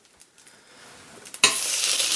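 Butter in a frying pan, ready for salmon pierogi, starts with faint clicks and light stirring, then bursts into a loud, bright, steady sizzle as food meets the hot fat.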